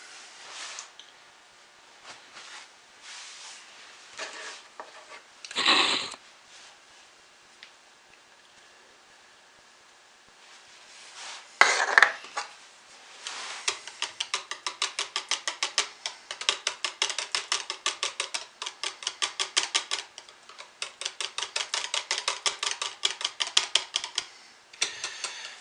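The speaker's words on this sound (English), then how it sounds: "Let's hand stir my pre-mixed titanium dioxide in." Hand stirring of pre-mixed titanium dioxide into soap batter in a deep container during lemon verbena poppy seed soap making: a few scattered knocks at first, then a long run of rapid, close scraping clicks against the container.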